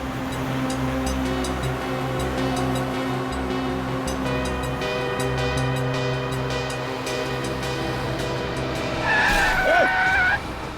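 A car driven recklessly on a road skids, with steady engine noise throughout and a sharp tire squeal rising near the end.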